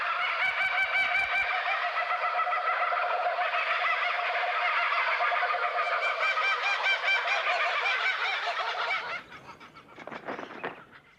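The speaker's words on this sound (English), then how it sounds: "This chorus of raucous laughter from one group of kookaburras proclaims their territory to neighbouring" A group of laughing kookaburras in the Australian bush gives a loud, raucous chorus of cackling calls that runs continuously for several seconds, then breaks into scattered, fainter bursts at the end.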